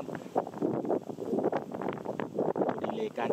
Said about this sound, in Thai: ลมพัดเสียงสบายครับ